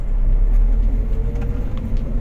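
A 2012 Toyota Avanza Veloz engine pulls in second gear, a steady low drone with a rising hum heard from inside the car, continuous and moderately loud throughout.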